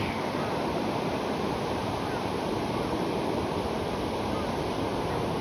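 Sea waves wash onto the shore on a beach in Japan, a loud constant roar of surf and rushing water with steady wind noise against the microphone and no distinct breaks.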